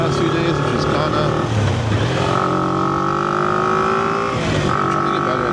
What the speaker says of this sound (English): I'm doing the downshift and grabbing a few gears.